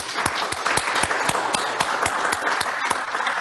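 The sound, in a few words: audience applause for panel speakers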